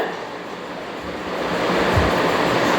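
Cashew nuts fry in hot oil after a batch of flattened rice, giving a dense, steady sizzling hiss that swells louder partway through and stays close.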